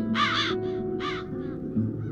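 Crows cawing in The Dark Eye: Chains of Satinav, two loud bursts of harsh repeated caws close by, followed by fainter calls over a low steady ambient hum.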